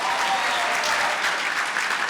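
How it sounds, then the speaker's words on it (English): Steady, full audience clapping at an anniversary convention, continuous and fairly loud with a dense wash of hands and no talk. "clap for him."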